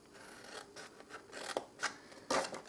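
Scissors snipping down score lines on paper for a small box, a few quiet, close cuts in irregular succession with soft rustling between them.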